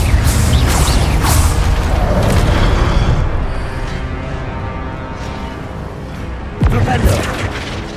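An Incendio fire spell cast in Hogwarts Legacy lands as a loud booming blast with a rumbling, crackling tail that fades out. A second sharp impact hits near the end, amid game effects.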